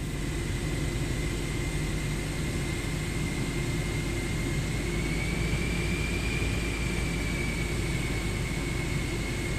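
An airliner's jet engine runs steadily just after start in Microsoft Flight Simulator 2024, a loud constant roar and whine with a slowly shifting high tone, no breaks.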